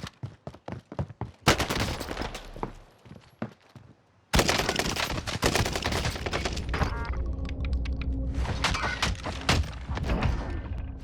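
Sustained automatic gunfire in Call of Duty as a magazine is emptied, opening with spaced single shots, then long continuous bursts with booming impacts, loud and close.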